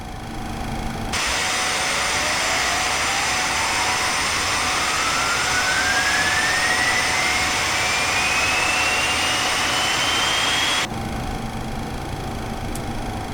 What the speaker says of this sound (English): Starting engine number 1.